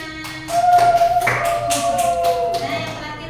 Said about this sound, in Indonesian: Boleh tepuk tangannya buat Firna.